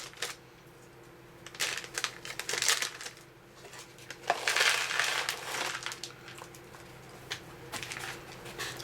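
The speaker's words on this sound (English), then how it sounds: "The nut fruit mix has a nice tear notch though, so that's easy enough to open." Crinkly plastic of an MRE nut and fruit mix pouch, from a First Strike Ration, crackles and rustles in several uneven bursts as it is torn open at its tear notch, close up and with no talk.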